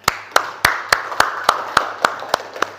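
Classroom applause in an Islamic religious education lesson: about ten crisp, evenly spaced claps in a steady unison rhythm, fairly close and loud, with a faint low hum underneath and no talking.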